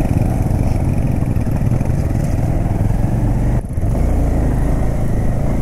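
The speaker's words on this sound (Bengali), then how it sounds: "আর আমার বাইকের পাওয়ার ল্যাগ করছে সেই জায়গাগুলোতে গিয়ে।" A motorcycle engine labours up a steep mountain incline on a road near Lachen, Sikkim, with a loud, continuous low drone and a brief dip in the noise partway through.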